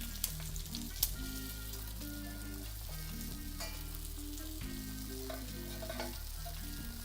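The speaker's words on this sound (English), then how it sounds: "they're frying up nicely" Gnocchi fry in a pan with a steady, close sizzle and crackle that runs continuously, with a few sharper pops and no voices.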